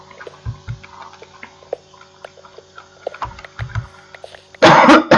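Several coughs from one person: two short, muffled coughs early on, a cluster of three more in the middle, then a louder, harsher coughing burst near the end, with quiet clicks and shuffling between.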